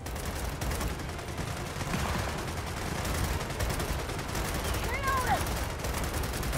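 Rapid bursts of automatic gunfire from a Retro Lancer rifle in Gears of War 4 fill a dense, loud game battle mix, with sustained rattling and sharp transients throughout.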